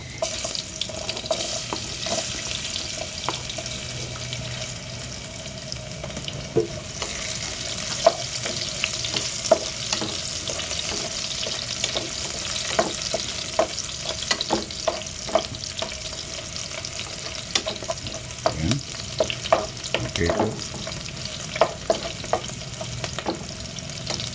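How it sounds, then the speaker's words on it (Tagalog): Garlic and onion sauté in oil in a pan for a pork afritada, a steady sizzle with scattered clinks and scrapes of a spatula stirring, close and continuous with no talking. "Una po natin gagawin, magsutay po tayo ng bawang"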